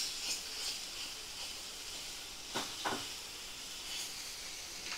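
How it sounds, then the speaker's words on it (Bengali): Spices and ingredients fry in a pan over medium flame, a faint, steady sizzling hiss with a couple of brief scraping stirs. "সমস্ত উপকরণ আমি ভালো করে ভাজা ভাজা করে নেব।"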